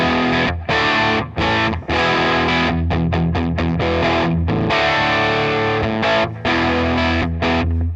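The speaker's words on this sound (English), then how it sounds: "can hear definitely the difference in the overdrive between the two humbuckers" Electric guitar with a humbucker pickup played through a Digitech RP1000 with overdrive, loud distorted chords struck in short choppy bursts with brief gaps and a few quick stabs, no voices.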